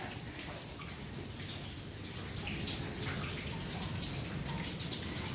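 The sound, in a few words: water dripping inside old gold mine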